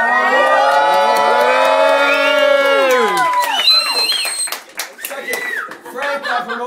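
A crowd erupts in loud sustained cheering and high whoops, with clapping underneath, tapering into scattered shouts and applause.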